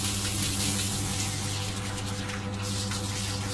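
Water runs from a Nagayu shower head, rinsing a dog in a continuous, even hiss and gush that holds steady throughout with a low hum beneath it and no speech.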